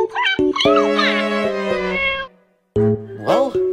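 A cat meows in close, loud, high-pitched calls, several in a row, then falls briefly silent before letting out a couple more sharp meows.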